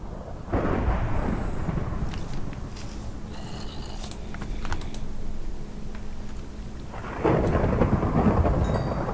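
Thunderstorm in the video game Minecraft Tekkit Lite: a loud, close crack of thunder from a lightning strike rumbles out, then a second heavy burst follows near the end, with keyboard typing in between and no talk.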